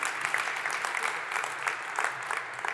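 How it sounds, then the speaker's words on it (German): Audience applause at a German health awards event welcomes guests onto a talk stage, a steady moderate clapping from the crowd filling the whole moment. "Das ist Ihr Applaus."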